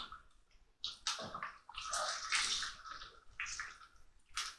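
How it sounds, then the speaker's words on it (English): Liquid pouring and splashing as fat is drained off cooked beef mince for an Italian ragu, a fairly close, continuous wet trickle with a few louder bursts of sloshing. "Just going to drain that off."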